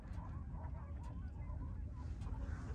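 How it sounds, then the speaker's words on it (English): Geese honk repeatedly from a short distance, a noisy chorus of overlapping calls over low background rumble. "Look at all those geese."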